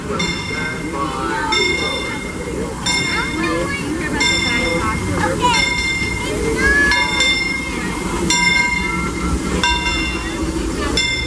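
Disneyland Railroad train pulling into its station at night, a steady rumbling rolling noise with high metallic tonal squeals and clinks recurring throughout, under a crowd murmur and intermittent talk.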